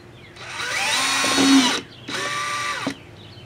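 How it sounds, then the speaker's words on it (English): A power drill with a 3/32 bit whirs loudly in two short bursts through a 2010-2016 Cadillac SRX wheel-well liner, the motor pitch dropping briefly under load before stopping. "And we want to use a 3/32 drill bit for this."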